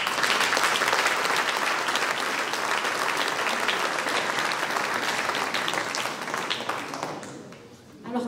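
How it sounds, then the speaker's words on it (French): An audience applauds rugby figure Thomas Charabas at an honorary citizen ceremony in Ondres: dense, loud, sustained clapping from a crowd that carries on steadily and then fades out near the end. "Et je vais vous demander d'applaudir très fort Thomas Charabas."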